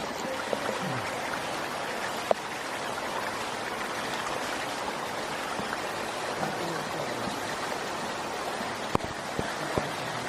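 A waterfall at a pilgrimage site pours in a steady broadband rush that runs continuously, with a few faint clicks and no clear talk.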